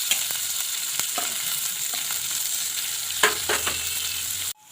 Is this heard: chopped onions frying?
yes